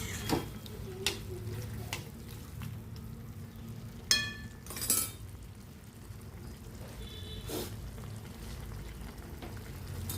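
A steady low bubbling simmer of ivy gourd curry fills the pan, with occasional clinks and a brief scrape of a spoon; no one speaks.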